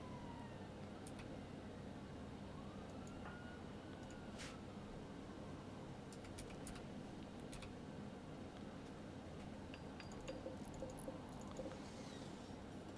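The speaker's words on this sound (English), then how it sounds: "there's a siren out there" Faint siren wail from outside rises and falls in the distance during the first few seconds, under a constant low background hum, with a few brief clicks later on.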